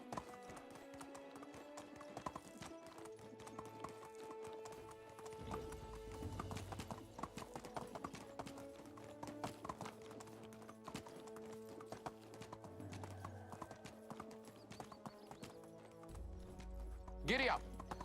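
In the video game Medieval Dynasty, horse hooves clip-clop in a steady, even rhythm that goes on throughout, with game music playing underneath.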